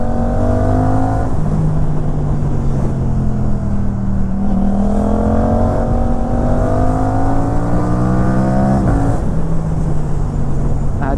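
A motorcycle fitted with a GPR Ghost full-system exhaust, DB killer on, runs loud and close, engine pitch climbing and falling through repeated rev sweeps under a constant rumbling drone.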